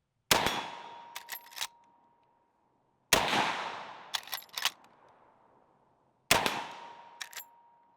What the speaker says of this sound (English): I took this thing and let a handful of friends shoot it.